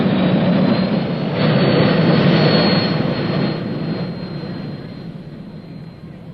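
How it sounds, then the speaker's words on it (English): An Indy race car powered by a 260-pound Pratt & Whitney ST6 aircraft turbine engine with its intake in the nose runs past as a loud, steady jet-like whoosh that swells and then slowly fades. "The 260-pound Pratt & Whitney ST6 aircraft engine has its air intake in the nose of the car"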